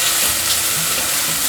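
Red shimeji mushrooms stir-fried quickly in a hot pan, a bright, continuous sizzle and crackle heard up close for a brief moment, with no voices.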